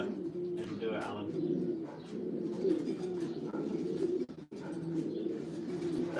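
Racing pigeons coo in a loft while being basketed for a race, soft low repeated cooing and occasional chirps near and far, with people talking over them.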